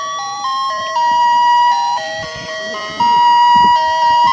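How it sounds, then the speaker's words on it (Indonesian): Toy ice cream cart playing its electronic jingle, a bright stepwise melody loud and close, with light handling noises underneath. "Ada gerobak es krim teman-teman nih. Kita punya gerobak es krim."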